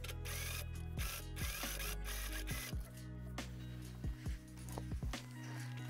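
A sewing machine top stitches a seam on a corduroy dress, giving a close, steady mechanical whir with rapid ticking needle strokes and a few brief pauses and thumps along the way.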